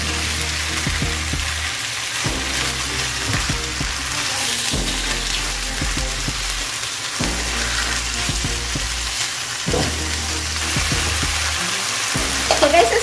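Beef and bok choy stir-frying in a pan for a Korean-style dish, a steady close sizzle with repeated scraping and tossing knocks of the utensil throughout, no talking.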